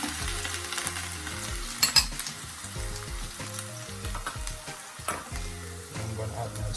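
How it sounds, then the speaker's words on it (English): Onions and scallions fry in hot preheated oil in a pot, giving a steady close sizzle with stirring and utensil clatter, a couple of sharp knocks partway through, and no voices. "When my oil is hot, I'm going to start out with my onions. And also my scallions now."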